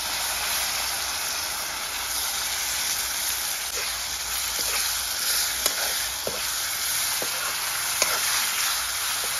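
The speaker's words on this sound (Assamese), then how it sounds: "বিলাহীখিনি ভালকৈ ভাজি লগালোঁ।" Tomato paste fries with turmeric and chilli powder in a pan for a pork curry with laai xaak greens. It sizzles in a constant close hiss, broken now and then by a small pop or bubble burst, with no talk.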